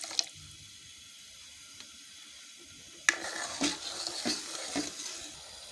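Water poured onto half a kilo of sugar in a pan to make sugar syrup: a quiet stretch, then a steady splashing pour that starts midway and runs to the end, with no talk.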